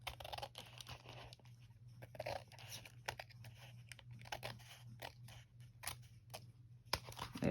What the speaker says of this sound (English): I'm going to trim off this little bit here.